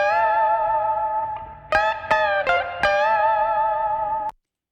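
Electric guitar part played with the Waves Abbey Road RS124 compressor bypassed: sustained chords with several fresh strums and bright harmonics, steady and fairly loud, cutting off abruptly into silence at the end.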